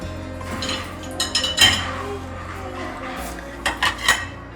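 Dishes and cutlery clink and clatter while being handled and rinsed, with a few sharp bursts of knocking crockery against steady background noise.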